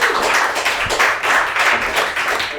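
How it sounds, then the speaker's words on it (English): A room of people gives a presenter at a crypto showcase a round of applause, a dense wash of clapping that stays full and fairly close throughout the short moment. "Round of applause for Taylor."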